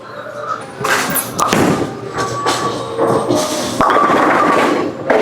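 A urethane bowling ball thrown hard down an alley lane: a heavy thud on release, then a continuous rolling rumble with knocks and clatter, set against loud alley background noise.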